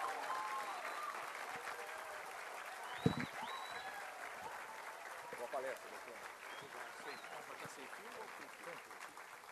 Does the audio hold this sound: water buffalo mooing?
no